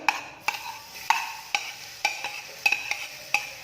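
Ripe plantain fries in a pan as a utensil stirs it in sharp, regular scrapes and taps about every half second, close by, over a quiet sizzle. Nobody speaks.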